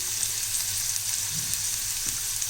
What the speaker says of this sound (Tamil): இப்போ இந்த வெங்காயம் நல்லா வதங்கிடுச்சு இதிலே வந்து நம்ம நசுக்கி வச்ச பூண்டு சேர்த்துக்கலாம்